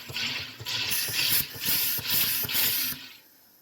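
A home sparkling water maker carbonates a bottle of water in several loud, hissing bursts with a ratcheting mechanical buzz, each a fraction of a second long, before tapering off.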